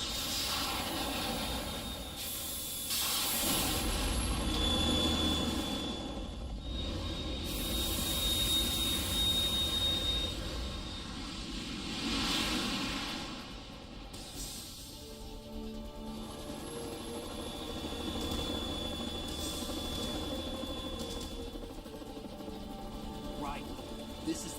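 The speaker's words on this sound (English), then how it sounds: "You have to shoot the Harrier down." Harrier jet roaring in the Metal Gear Solid 2 video game, a steady loud engine drone that swells and fades over the length, mixed with game effects and background music.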